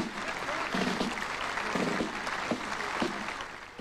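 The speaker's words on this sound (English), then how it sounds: "veterans marched to applause as they left Anzac services." Faint outdoor applause for veterans marching after Anzac services in New Zealand, scattered clapping under a voice.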